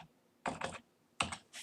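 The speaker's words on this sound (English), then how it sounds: "I would click the invoice, simply type in Joe Blogs" Brief typing on a computer keyboard while entering a name into an invoice: two quick clusters of crisp key clicks and a final tap, close and clear against near silence.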